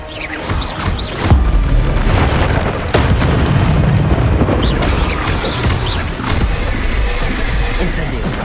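Booming magical blasts from the Incendio fire spell in Hogwarts Legacy, several heavy impacts in quick succession with crackling bursts between, loud and close over constant combat noise.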